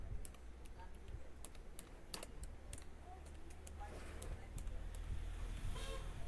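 Keys on a computer keyboard are typed in scattered, light clicks close by, faint over a low steady room hum, with an occasional quicker run of taps.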